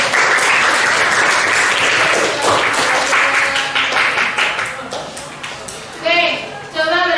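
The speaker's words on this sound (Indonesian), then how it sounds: "Coba berikan tepuk tangan, aplaus dulu." Classroom children clap in a loud, lively round of applause that thins out toward the end, with a voice speaking over the final moments.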